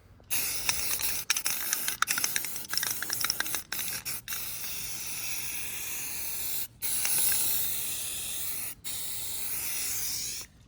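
A spray can lays bright pink paint onto a Nissan 350Z bash bar in a run of close, hissing bursts of varying length, separated by short gaps and occasional rattles of the nozzle, with no talk.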